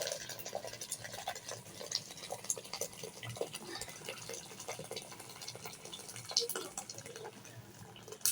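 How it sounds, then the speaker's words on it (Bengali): Hot water pours into a pot of fried rice and green chilies for khichuri, a soft continuous splashing and gurgling with small drips, quiet and close. "আর এখন দিয়ে দিচ্ছি গরম পানি।"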